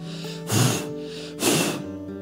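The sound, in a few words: voice imitating sniffing or snorting in someone's ear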